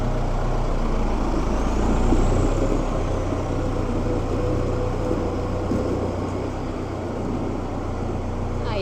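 A Valtra N101 tractor drives slowly into a storage shed, its engine a steady low rumble throughout, close and fairly loud with no talk.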